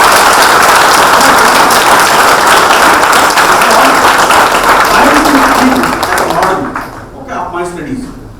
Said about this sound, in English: Give big applause to him.